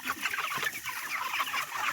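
A flock of chickens, 28 days old, clucks steadily on a poultry farm, many overlapping calls forming a constant busy chatter with no voices.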